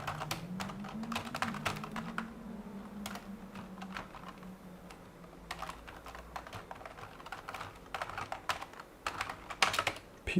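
Fingers tap quickly on a computer keyboard near an upgraded 1.2 GHz Apple G4 Cube, irregular bursts of clicks with brief pauses, over a faint low hum.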